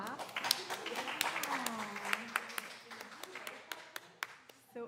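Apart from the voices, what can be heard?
audience clapping after a poem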